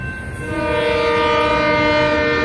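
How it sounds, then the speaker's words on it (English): An Amtrak train and a Union Pacific freight train led by a GP40M-2 meet and pass, with a loud sustained multi-tone horn blaring close by over rumbling rail noise. "Holy cow, that was a train meet."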